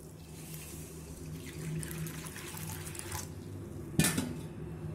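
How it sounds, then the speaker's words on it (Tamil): Water poured into a wide pan of ragi vermicelli in a kitchen, a steady soft splashing flow with a sharp clank of the vessel near the end, no talk. "மூழ்கிற அளவுக்கு தண்ணி சேர்த்துருவோம்."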